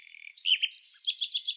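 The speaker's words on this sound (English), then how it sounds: "Up next, the European starling and its unforgettable murmurations." European starling calling close by: a thin whistled note, then slurred squeaky phrases and a quick run of rasping, clicking chatter, clear and alone.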